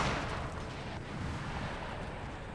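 Artillery explosive shot fired in Empire Total War (Darthmod) during a siege battle, heard as a dense, continuous wash of booming blasts and rumbling fire at a steady, fairly loud level.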